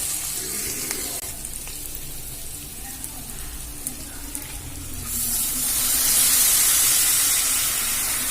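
Rice tipped into fried chana dal in a pan for pulao, a steady broad sizzle and hiss that swells louder and brighter in the last few seconds.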